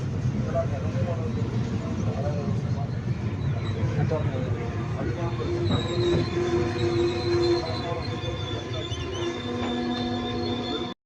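A passenger train runs on the Pollachi line near Udumalaipettai, giving a loud, steady rumble of wheels on rails with sustained metallic squealing tones rising through the middle of the run.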